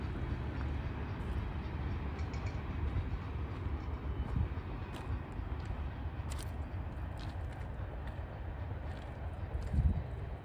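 Steady low rumble of a westbound train rolling in, a broad continuous roar with faint higher squeals, fairly distant and unbroken throughout.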